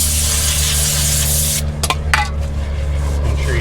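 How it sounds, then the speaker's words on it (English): Degreaser sprayed from a can onto a brake rotor: a loud continuous hiss for about a second and a half, then a few short spritzes with small clicks and rubbing, close by. "we're gonna degrease the rotor and then put the caliper back on"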